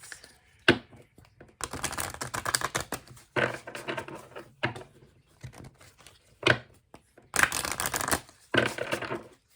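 Santa Muerte tarot-style cards being shuffled on a small desk, a series of crisp riffling and rustling bursts of paper slapping together, separated by short pauses, close and fairly quiet.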